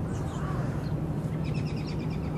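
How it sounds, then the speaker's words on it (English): Birds call in the background along Coney Island Creek in Brooklyn, New York: a run of faint, repeated chirps over steady outdoor ambience and low rumble, with no talking. "listen to the wildlife of Brooklyn, New York. We got the birds in the background."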